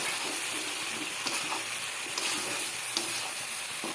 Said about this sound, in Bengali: এবার এটাকে সুন্দর করে কষিয়ে নেবো।